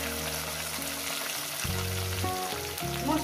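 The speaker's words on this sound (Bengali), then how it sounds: "পেঁয়াজটাকে আমি ভেজে নেব, প্রায় 2-3 মিনিট ধরে পেঁয়াজটাকে ভেজে নেব।" Chopped onion fries in a pan with a steady, bright sizzle throughout, while a low tonal hum comes and goes underneath.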